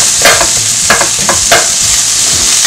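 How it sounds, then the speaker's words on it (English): Onions sautéing in hot oil in a pan, a loud close sizzle broken by several distinct stirring scrapes over a few seconds, no talking. "So you're just going to want to saute these until they soften."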